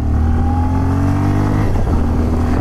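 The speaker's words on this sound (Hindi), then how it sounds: "सो चलिए बाइक को थोड़ा सा खींचते हैं, उसके बाद ब्रेकिंग टेस्ट करके देखते हैं" A 2021 Bajaj Pulsar 125 BS6 motorcycle accelerating hard on a test ride, its close engine note climbing steadily in pitch as it pulls through the gear, loud and continuous with no talking.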